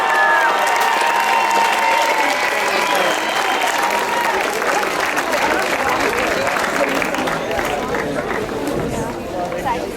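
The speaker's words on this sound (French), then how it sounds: "Je vous demande un tonnerre d'applaudissements s'il vous plaît pour Chloé Collier" An audience at a youth bouldering competition medal ceremony applauds for a climbing medalist, dense sustained clapping mixed with crowd chatter and a few cheers, with an announcer's voice briefly audible at the start.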